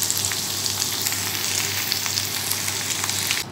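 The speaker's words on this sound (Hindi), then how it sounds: "अब इसका वेजी हम लोग फ्राई करेंगे।" Vegetables sizzle in hot oil in a wok for a shrimp and cabbage dish, giving a steady, close frying hiss that drops away at the very end.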